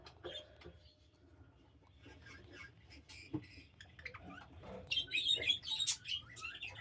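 A budgie held in the hand for leg banding gives scattered chirps and squeaks, growing into louder, rapid bursts of chatter near the end, with faint handling noises between.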